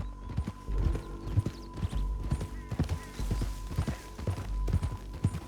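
Horse hooves trot in Red Dead Redemption 2, a steady clip-clop rhythm running close through the whole stretch over a low ambient game soundscape, with no talk.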